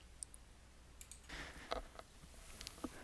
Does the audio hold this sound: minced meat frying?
no